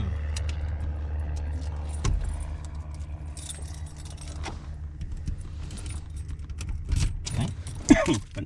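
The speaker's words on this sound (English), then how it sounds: "I have the keys. I'm putting that in the ignition." A bunch of keys jangles and clinks up close as it is fitted into a vehicle's ignition, with scattered metallic rattles and a louder jingle near the end over a low background rumble.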